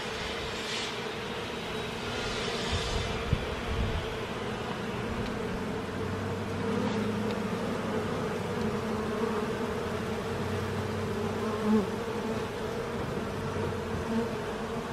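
Honey bees buzzing at a hive entrance, returning loaded with pollen: a steady, dense drone of many bees close by, with individual bees whining past now and then, and no talking.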